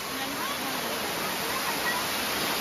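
A small waterfall with little water gives a steady broadband rush of falling water, constant and fairly close throughout, with no other clear sounds.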